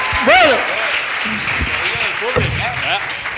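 A comedy roast battle audience claps and cheers for Marc Oliva, a steady wash of applause with voices shouting and talking over it.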